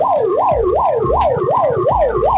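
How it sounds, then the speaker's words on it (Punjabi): An ambulance siren, stuck in a long traffic jam at the Mata Chintpurni fair, wails loud and close, its tone sweeping up and down in a fast, regular cycle that repeats about six times. "ਐਂਬੂਲੈਂਸ ਵੀ ਫਸ ਗਈ ਜੀ"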